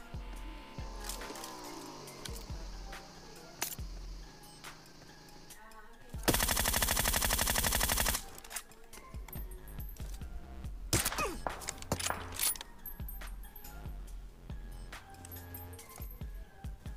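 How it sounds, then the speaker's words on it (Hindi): Gunfire in a battle royale video game: scattered sharp shots and clinks, then a loud sustained burst of rapid automatic fire lasting about two seconds, followed by more isolated cracks and small metallic clatter. "अब ये बंदे पे यार शॉट्स लेने की ट्राई कर रहा था, पर दोनों शॉट्स मिस हो गए।"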